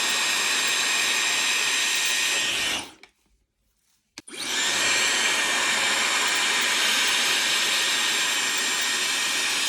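A handheld blow dryer roars steadily close up while drying hair with a brush during a smooth blowout. It cuts out for about a second, then starts again at full strength.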